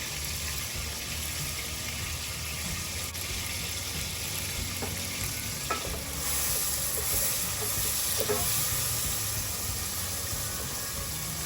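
Pork belly sautéing in a pan for sinigang, a steady sizzling hiss with faint scraping clicks, near and continuous with no talk.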